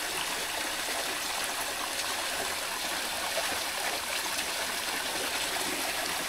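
A replacement water pump runs steadily, drawing up water with a continuous rushing, trickling flow, like a stream of liquid moving through the pipe, close and unbroken.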